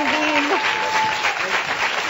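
An audience claps for a band in a Portuguese TV studio, with dense, steady applause close by while a presenter speaks over it.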